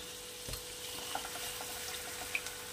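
Spice paste goes into a hot pan while cooking Bengali lau bhapa, giving a soft, steady sizzle and frying crackle with a few small pops and a faint stirring scrape.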